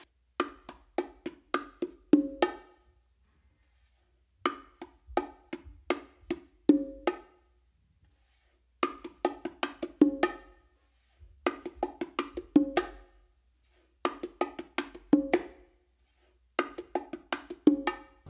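Martillo pattern on bongos, hand strokes on the macho and hembra combined into one groove: rapid repeating phrases of crisp, close hits in steady bars with brief gaps between them, no voices.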